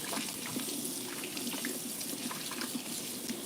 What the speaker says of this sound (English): Wash your hands, people.